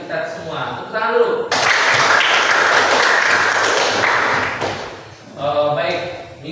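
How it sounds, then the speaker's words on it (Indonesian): Students in an Indonesian primary classroom clap together in a short, loud burst of about three seconds, with spoken voices before and after it. "Tepuk tangan dulu."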